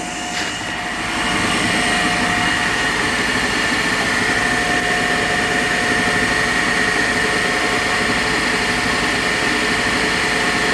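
A three-phase induction motor runs under balanced load on a test bench, giving a loud, steady hum and faint whine that holds unchanged after a brief quieter start, with no talking.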